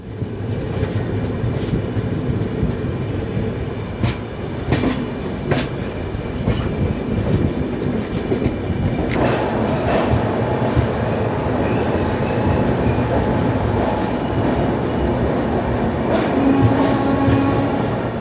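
The 12863 Howrah–Bengaluru SF Express runs at high speed in dense fog, a loud continuous rumble of wheels and carriages with rhythmic rail clicks and occasional squeals, sustained throughout without any voices.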